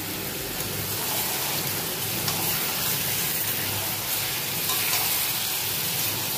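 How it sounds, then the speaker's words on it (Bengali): Meat cooking in a pan in a home kitchen, a steady close frying sizzle with a rain-like crackle and faint stirring, continuous with no speech. "আর এখানে মাংসটা করছি এখন।"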